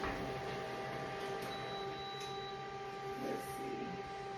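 An inkjet printer prints product labels at 1200 DPI, a faint mechanical whir with steady tonal hum and soft clicking carriage movements, quiet and close with no speech.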